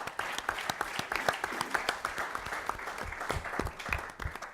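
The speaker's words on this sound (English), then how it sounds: "that applause is for everyone in this room." Audience applause at a forum on commutation and parole in Massachusetts: dense, steady clapping from a room full of people, moderately loud and sustained throughout with no voices over it.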